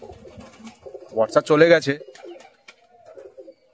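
Pigeons coo inside a loft under a cloudy sky, their soft burbling calls mixed with someone talking close to the microphone.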